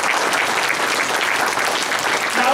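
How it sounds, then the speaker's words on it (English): A church congregation claps its hands in steady, dense applause that stays loud and even throughout the short stretch, with no talking over it. "can we give them a hand clap who raised their hand today?"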